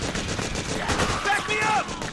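Bursts of gunfire during a Metal Gear Solid 4 firefight, rapid overlapping automatic shots close and loud, with voices shouting over the shooting.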